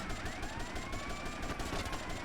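Rapid, continuous bursts of gunfire in the video game GTA Vice City crackle without pause over a dense, steady background, with a faint rising tone running underneath.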